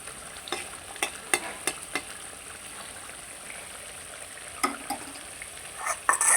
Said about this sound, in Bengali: এই তো আমার মশলাগুলো আমি জাল দিতে আছি